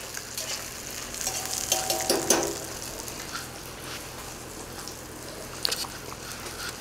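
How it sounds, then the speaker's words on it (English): Chunks of Spam sizzle and crackle in a frying pan, a soft continuous hiss punctuated by bursts of scraping and stirring from a utensil. "I'm just going to continue frying away here."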